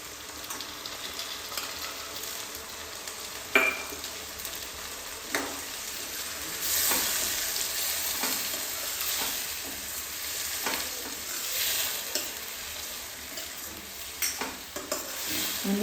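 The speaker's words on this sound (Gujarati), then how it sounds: "અને ડુંગળી અને ટમેટાને આપણે ચડવા દઈશું" Onions and tomatoes sauté in a pan, a steady close sizzle with occasional scraping stirs and light clicks of a utensil, continuing alone throughout.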